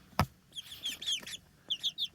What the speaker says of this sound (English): chickies are getting pretty big